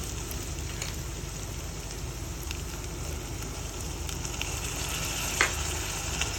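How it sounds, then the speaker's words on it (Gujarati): Boiled green peas being added to softened onions frying in a pan for a North Gujarat green turmeric curry: a loud, continuous sizzling hiss with a short sharp spike near the end. "ડુંગળી ચડી જાય ત્યારબાદ આપણે તેમાં વટાણા નાખીશું."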